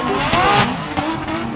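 A Formula Drift competition car drives through a wet course in the rain at Atlanta. It makes a brief, loud, close engine roar with a rough, gritty edge.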